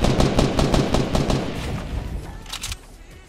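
Rapid bursts of gunfire in the video game Fortnite crack out in quick, close succession, then thin to a few scattered shots that are fainter and farther off, with no talking.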